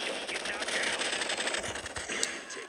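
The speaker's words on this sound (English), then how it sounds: "The Uzi works perfectly on close range because all the bullets don't go straight." Continuous rapid-fire Uzi submachine gun bursts in Ride Out Heroes, a dense rattling stream of close shots with little pause over nearly three seconds.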